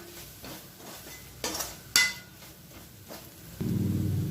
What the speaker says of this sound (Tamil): இப்போ இது எல்லாத்தையும் நல்லா வதக்கிக்கலாம்